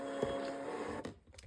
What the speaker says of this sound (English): I just printed a red and black sticker using my thermal printer